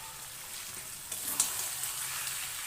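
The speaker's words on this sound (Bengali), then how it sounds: "একটু ভালো করে কষিয়ে নিই" Curry cooking down in a pan gives off a faint, steady sizzle with a couple of brief louder scrapes or stirs midway, low in level and with no talking.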